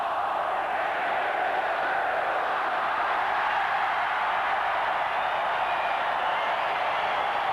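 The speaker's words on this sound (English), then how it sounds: "Listen to the crowd." A large stadium crowd roaring and cheering in a dense, sustained wall of noise, distant and unbroken, at a 1991 Australia versus New Zealand rugby league test match.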